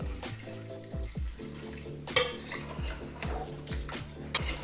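Coconut milk is poured into a pot of chicken stew, a liquid pour mixed with the clink and scrape of kitchen utensils, moderately close.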